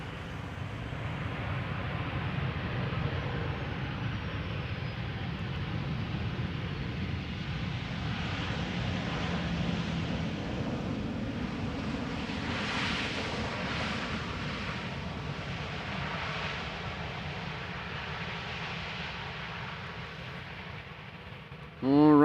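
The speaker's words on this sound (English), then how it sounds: "737 arriving from Milan." A Boeing 737 airliner arriving at Amsterdam Schiphol Airport, a steady broad engine roar that holds at an even level throughout, with a faint higher whine swelling midway.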